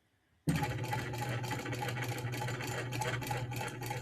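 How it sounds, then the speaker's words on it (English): A sewing machine starts abruptly and runs in a fast, steady rhythmic stitching clatter while top stitching down the side of a handmade bag, close and continuous with no talk. "Sewing down the side, top stitching."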